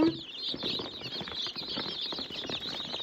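High, busy peeping of many small Master Grey chicks chirping continuously up close, with soft rustling and scratching beneath.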